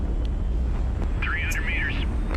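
Reverse thrusters fire on an airship in a post-apocalyptic strategy game, giving a steady low engine-like rumble with a thin warbling whine rising above it partway through.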